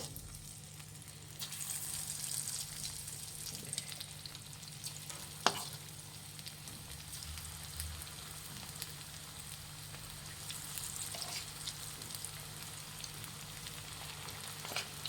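Chicken pieces frying in hot oil in a pan over a medium flame for restaurant-style chilli chicken, a steady broadband sizzle throughout with occasional stirring clinks and one sharp utensil tap.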